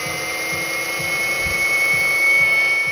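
A rotary polisher runs at its lowest speed with its pad pressed against a car panel, a steady close motor whine with a high tonal hum and faint rhythmic low thumps.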